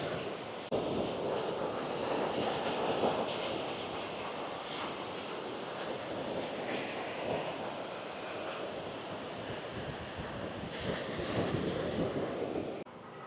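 Ocean surf washes steadily onto a beach in Phuket, Thailand, a continuous broadband roar with gentle swells in intensity and some wind buffeting the microphone, no voices.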